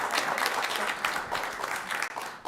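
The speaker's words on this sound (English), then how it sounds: "Here's where we clap" Audience at a city council meeting clapping for an award winner, a steady, fairly close burst of many hands applauding throughout.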